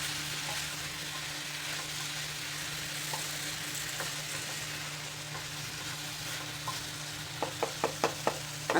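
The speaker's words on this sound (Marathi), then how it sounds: "त्याला सारखं हलवत राहायचं आता त्या गुळामध्ये व्यवस्थित कैरी शिजून निघते" Raw mango cooks in jaggery in a pan with a soft, steady bubbling sizzle, and a run of quick spoon taps against the pan comes near the end.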